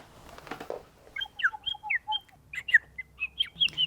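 A squawking bird toy gives a run of bright, chirpy squeaks and short tweets, about a dozen in an irregular rhythm, close and fairly loud after a brief rustle at the start.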